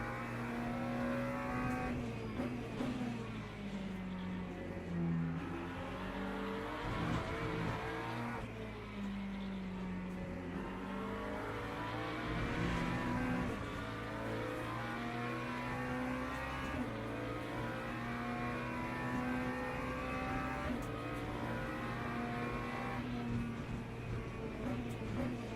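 A McLaren race car engine in Le Mans Ultimate at Sebring drones continuously, its pitch rising and falling through gear changes with faint tire squeal, loud and close throughout.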